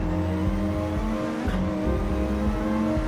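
A Porsche race car in the Gran Turismo 7 video game roars past with a steady loud engine drone, its pitch shifting briefly as it flies by close up, over the hum of other cars.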